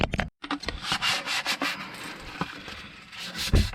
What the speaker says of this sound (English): I'm gonna have to touch this thing up with some sandpaper first in order to avoid messing up my seal